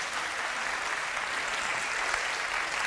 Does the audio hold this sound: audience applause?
yes